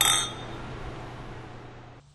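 Wine glasses meet in a toast, a single bright clink at the start whose ringing tone fades over about two seconds, with no voices.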